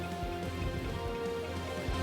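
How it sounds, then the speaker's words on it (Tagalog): Steady rain from Typhoon Quiapo falls in Batanes, heard as a continuous even hiss of drops hitting surfaces. It runs constant and moderately loud for two seconds with no talk. "Ramdam na rin ang pag-ulan dulot ng bagyong Quiapo sa ilang lugar sa Batanes"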